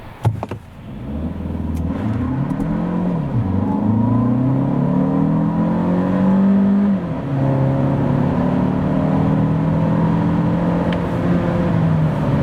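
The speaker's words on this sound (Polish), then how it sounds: "Wykorzystując pełnię potencjału układu napędowego, tak auto przyspiesza od 0 do setki." Jaecoo 5 with a 1.6 T-GDI 147 hp petrol engine accelerating hard from 0 to 100 km/h on a winter road, heard from inside as loud revving climbs through several gear shifts under steady road noise.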